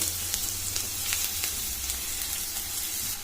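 Sliced onions with a pinch of turmeric and salt fry in oil for a urad dal and fenugreek leaf curry, giving a steady hissing sizzle with soft crackles and a low rumble underneath.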